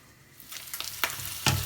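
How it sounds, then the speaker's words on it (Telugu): Puris deep-fry in hot oil with soft crackling and a few sharp sizzling bursts, close and fairly quiet. "ఒక్కొక్కటి అన్నీ రెడీ చేసుకొని ఆయిల్లో డీప్ ఫ్రై చేసుకుందాం."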